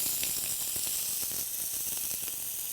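Onion sizzles in olive oil in a preheated skillet, a steady bright hiss with scattered small pops and crackles throughout, close and moderately quiet, with no talking.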